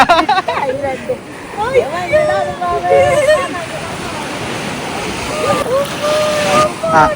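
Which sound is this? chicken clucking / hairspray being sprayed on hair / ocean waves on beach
ocean waves on beach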